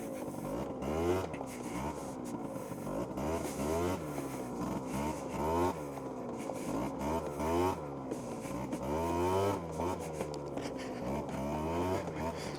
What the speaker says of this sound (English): Listen to that farty sport exhaust